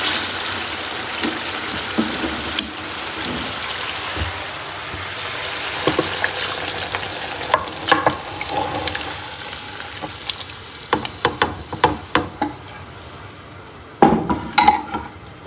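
A spoon scrapes and clinks against a cooking pot while chicken haleem is mixed with boiled lentils, a thick mixture bubbling and sizzling steadily underneath, with sharper stirring knocks clustering toward the end; nobody speaks.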